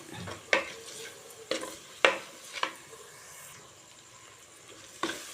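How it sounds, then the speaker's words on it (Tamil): A ladle stirs and mashes a sautéed mixture in a pan for a seela fish curry, making several sharp, separate knocks and scrapes at uneven intervals over a soft background sizzle, with no voices. "நல்லா வதங்கிருச்சு இப்படி கரண்டியால் கொஞ்சம் இப்படி மசிச்சு விட்ருங்க"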